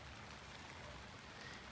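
Steady rain falls outdoors in a dense, even hiss of drops on surfaces, continuous and moderately loud throughout with no talking.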